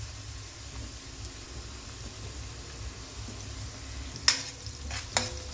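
Chopped onion sautés in a hot oil tempering with asafoetida for a carrot stir-fry, giving a soft, steady sizzle with no talk, broken near the end by two sharp clinks of a utensil against the pan.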